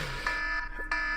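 Alarm buzzer signalling the end of a 60-minute show, a steady, fairly faint electronic tone held for about a second with small scattered noises over it.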